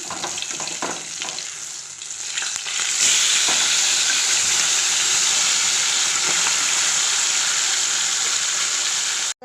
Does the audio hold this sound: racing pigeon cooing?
no